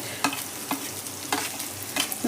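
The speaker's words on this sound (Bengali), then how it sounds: "পেঁয়াজটা আমি দিয়ে দিলাম এবার হালকা ভেজে নিলাম" Thinly sliced onion, half of a medium onion, being stirred and lightly fried in a pan, with a steady sizzle under several clear spatula scrapes spread across the stretch.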